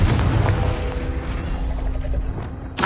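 The Confringo blasting spell explodes in the game Hogwarts Legacy with a loud, deep boom that rolls off into a long fading rumble, then a sharp crack at the very end.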